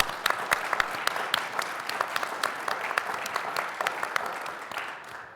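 Applause from a cybersecurity conference audience, a steady patter of many hands clapping in a room, moderately loud and continuous with a slight fade at the end.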